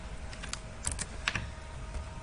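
Keys on a computer keyboard are tapped in short irregular bursts, quiet and close, with a few louder clicks over a low room hum and no talk.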